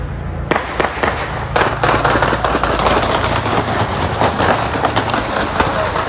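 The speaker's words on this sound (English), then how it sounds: "Them fucking gunshots, they shooting." Rapid, sharp cracking gunshots ring out in irregular bursts during riots and protests, loud and echoing over a constant rumbling background, with brief shouts faintly mixed in.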